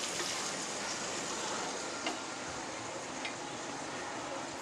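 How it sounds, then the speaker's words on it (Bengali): Chopped onions fry in a pan with a steady, dense sizzle for an Egg biryani, broadband and constant throughout, with a couple of faint clicks from stirring. "তো আমি পেঁয়াজগুলো হালকা বাদামি কালার করে ভেজে নিয়েছি"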